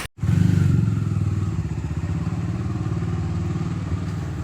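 A motorcycle engine starts up close by and runs with a steady, throbbing putter, holding at an even rumble without any voices.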